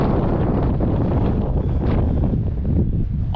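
Strong wind on an exposed, weathered mountain summit buffets the microphone in a steady, loud rumbling roar with no pauses.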